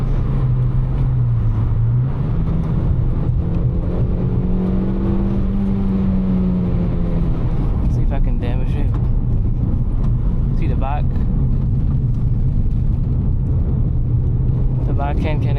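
A Suzuki Swift Sport with four-wheel drive is driven hard through very tight turns, its engine droning loud and steady as pitch rises and falls through the corners, with someone talking over it.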